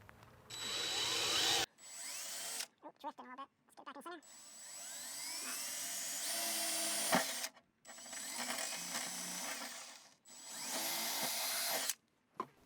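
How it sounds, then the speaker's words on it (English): A power drill whines loudly in several long bursts while drilling holes in a Ford Transit van for a seat install, its pitch rising as it bites, separated by short pauses with clicks and handling noise. "I think I just gotta stop being scared and drill these holes"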